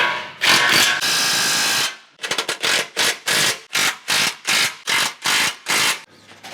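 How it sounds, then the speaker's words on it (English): A ratchet tightens the bolts of an Ironman 4x4 skid plate on a RAM 1500 DT. After one longer burst come about a dozen loud, close, rhythmic clicking strokes with short pauses between them. "I'm gonna tighten this middle set of bolts."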